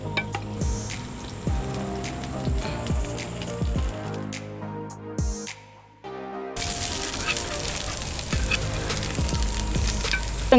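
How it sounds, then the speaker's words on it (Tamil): Onions fry with curry leaves and chillies for a Kongu-style sambar rice, a steady crackling sizzle with repeated clatters of stirring, dropping away briefly midway before surging back louder and brighter. "இப்போ நல்லா வெங்காயம் நல்லா வணங்கிருச்சுங்க இப்போ பார்த்தீங்கன்னா நம்ம கருவேப்பிலையும் மிளகாயும் போட்டுக்கலாம்"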